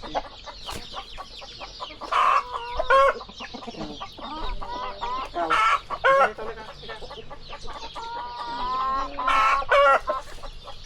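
Hens in a coop in New Zealand cluck and squawk in loud, close bursts with rising calls, keeping up a busy, continuous chatter throughout.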